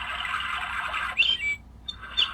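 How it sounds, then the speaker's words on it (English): Bird sound setting on an Aldi Bauhn WWRGB mood LED clock radio plays synthetic chirping birdsong, a steady bright warble for about a second, then a few short squawks and whistles, fairly loud and close with no talking. "Bird."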